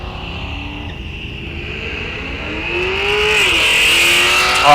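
Drag racing cars, among them a Mustang, roaring down the strip at launch, a loud engine climbing steadily in pitch as it accelerates away, with sustained high-revving noise.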